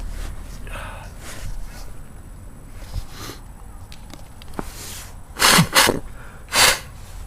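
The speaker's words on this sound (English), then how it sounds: "Gonna sneeze." A person sneezes twice near the end, sharp close bursts after quiet breathing and faint rustling.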